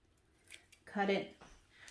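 A single crisp snip of scissors blades closing, close up and fairly loud, with quiet sounds before and after.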